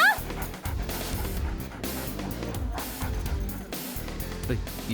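A dog barks in sharp bursts and whimpers among people in a scene from a Malayalam-dubbed film. Voices talk over and between the yelps.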